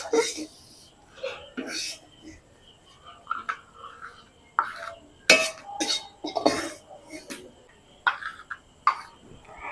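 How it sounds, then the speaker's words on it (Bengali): Fried flour for matka malai kulfi is scooped from the pan into a bowl, a series of short scraping clinks and taps of spoon against metal and bowl, spaced unevenly, fairly close and moderate in loudness. "এবার আমি একটা বাটিতে উঠিয়ে নিই"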